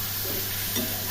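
Spiced masala being stirred and fried in a pan with a little oil and water, a soft steady sizzle with light scraping stirs, close and fairly quiet, with no talking.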